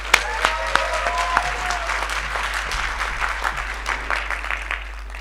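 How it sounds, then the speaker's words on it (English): Audience applause at a morning plenary session of an education conference, scattered distinct claps building into a moderate round from a seated crowd, with some sharp individual hand claps standing out near the start. "Let's give him a warm round of applause."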